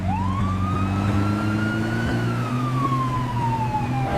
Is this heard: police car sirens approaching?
yes